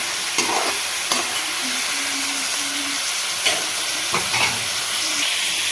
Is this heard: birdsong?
no